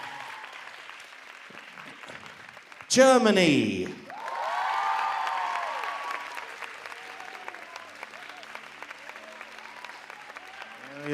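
Applause from a Miss World pageant audience rises suddenly as a contestant comes onto the stage, swells briefly loud, then settles into sustained clapping and cheering, with a voice speaking briefly over it.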